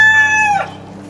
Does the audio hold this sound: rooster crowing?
yes